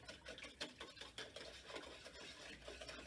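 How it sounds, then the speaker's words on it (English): A milk mixture for French toast is whisked in a bowl, making quick, faint, rhythmic scraping and tapping strokes that continue steadily without any talk. "let's whisk that all together."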